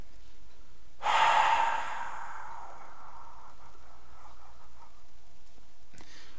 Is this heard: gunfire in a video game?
no